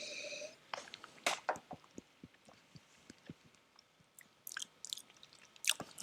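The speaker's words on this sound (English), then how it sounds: "I'm going to have my first proper sip of this here." A first sip of Waterford Ratheadon whisky, with a couple of close, quiet slurps and mouth sounds followed by soft smacking and swallowing in a hushed room.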